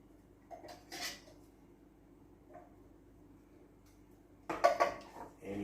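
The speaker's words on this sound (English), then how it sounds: "And you mix the butter in." A spoon scrapes and clinks in a bowl as corn is mixed with butter, a few soft stirring scrapes early, then a louder clattering burst near the end, close in an otherwise quiet kitchen.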